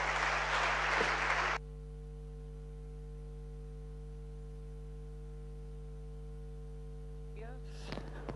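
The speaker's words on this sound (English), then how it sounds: "So let's receive him with a big applause," Conference audience applause at a foundation event, a dense burst of clapping for about a second and a half that stops abruptly, leaving a steady electrical hum with faint sounds near the end.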